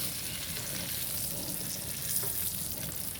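Bacon fries in a cast iron pan under a bacon press, a dense, even, continuous sizzle close up with no voices.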